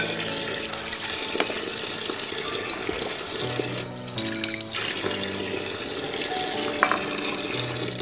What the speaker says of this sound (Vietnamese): Sau khi các bạn rửa xong sơ qua rồi thì các bạn nên bắt đầu sẽ rửa lại một lần nữa